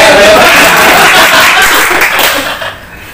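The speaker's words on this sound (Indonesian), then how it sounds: "Kasih tepuk tangan dulu." Audience applause on a podcast about neighbourhood duties, a loud close wash of clapping that fades out toward the end, with faint chuckles and a little talk.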